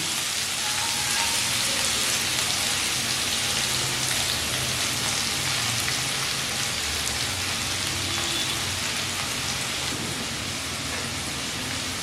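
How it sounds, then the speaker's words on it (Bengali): Finely chopped onions fry in oil in a pan over low to medium flame, giving a steady, dense, even sizzle that holds unchanged throughout with no voices. "ফ্লেম লো টু মিডিয়ামে রেখে পেঁয়াজগুলো একটু লালচে করে ভেজে নেব।"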